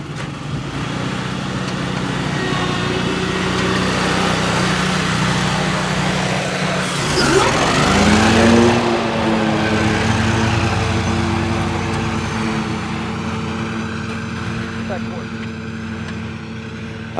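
A Walker riding lawn mower cutting grass: a steady engine drone runs throughout, rising into a brief louder surge midway as it passes close, then settling back to a constant hum.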